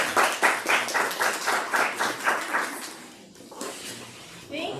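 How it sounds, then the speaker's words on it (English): Audience applause for Dr. Randa Anderson at a Lenten lecture, rhythmic rounds of clapping that pulse loudly, then fade away before a voice begins speaking. "let's give a round of applause to Dr."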